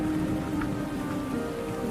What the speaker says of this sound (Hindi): बाहर बारिश और बिजली की चमक घर के अंदर तूफान मचा रही थी